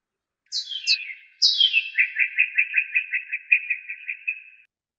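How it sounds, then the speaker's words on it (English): A northern cardinal sings during a total solar eclipse: a couple of clear downslurred whistles followed by a rapid, even series of repeated chip notes, loud and close in otherwise silent surroundings. "one of these spectrograms that we have to play for you today of a bird during the total solar eclipse is of a northern cardinal"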